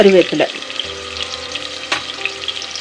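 Chopped onions with curry leaves frying in a pan, a steady close sizzle after a brief clatter at the start, with a few stirring knocks and no speech.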